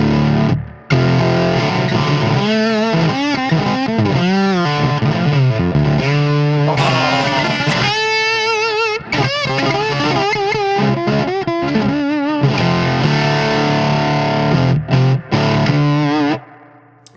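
An electric guitar played through a Plexi amp with its two channels jumped, both set around seven, gives loud, crunchy distorted chords and riffs with a few brief pauses between phrases.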